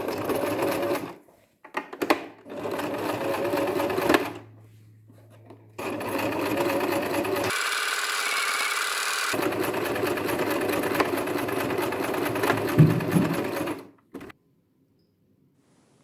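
A sewing machine stitches a fabric face mask in several bursts, from short stops and starts to one long steady run, each ending in sudden quiet, close and loud.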